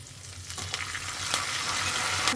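Curry leaves crackle and sizzle in hot oil for a pongali tempering, a close continuous frying hiss that swells slightly with a few sharper pops, with no voices.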